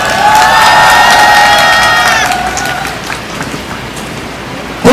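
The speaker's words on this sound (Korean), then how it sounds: "한번 박수를 쳐드리면 좋겠습니다" Crowd cheering and applause at a gathering about the Korean medical crisis, a loud sustained roar of voices and clapping that slowly tapers off, with whistle-like tones at the start and a sharp burst at the end.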